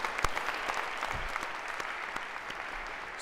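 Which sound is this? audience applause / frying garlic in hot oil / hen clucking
audience applause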